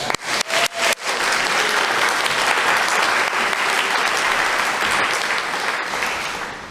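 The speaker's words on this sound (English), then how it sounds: "Let's give her a round of applause." Loud congregational applause for guest minister Reverend Libby Smith at a Sunday morning Unitarian Universalist service, opening with a few sharp separate claps and then swelling into dense, sustained clapping that fades slightly at the end.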